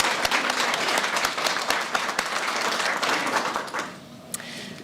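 Audience applause at a sociology and social work awards ceremony, a dense steady burst of many hands clapping that thins and fades toward the end.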